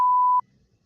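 A single steady electronic censor beep tone sounds for a moment, then cuts off abruptly into near silence.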